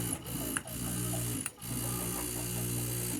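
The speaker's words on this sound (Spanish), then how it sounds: "Como están observando, el motor está encendiendo." An air conditioning compressor motor hums steadily at close range, running with a constant low drone broken by two brief dips, without any voices.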